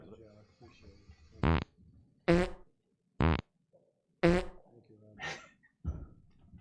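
Several short, loud fart sound effects burst out one after another, spaced about a second apart, with quieter talk between them.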